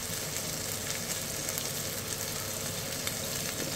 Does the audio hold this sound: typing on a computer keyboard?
no